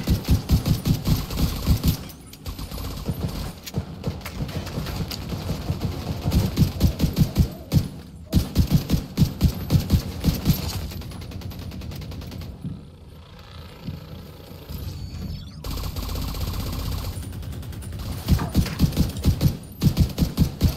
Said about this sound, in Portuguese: Pô, já chegaram atirando, cara